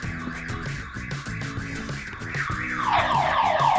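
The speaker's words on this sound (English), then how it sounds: "luckily the alarm goes on and off" A car alarm on a BMW M3 bought at auction blares close by in a fast, repeating electronic pattern of warbling and sweeping tones that keeps cycling without pause.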